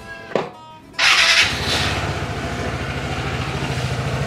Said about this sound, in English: That's the engine right there.